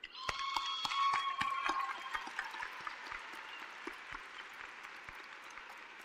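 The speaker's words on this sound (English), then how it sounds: "Let's clap it up for the parents real quick." Parents receive applause at a Cedar Shoals high school graduation ceremony: a burst of clapping that peaks early, then thins to scattered claps fading under a steady room hum.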